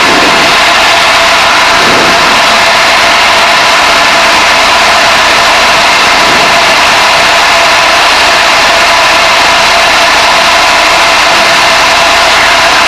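Steady, loud engine drone from a Van's RV-6A light aircraft flying in two-ship formation, a constant broadband roar filling the whole stretch without letup.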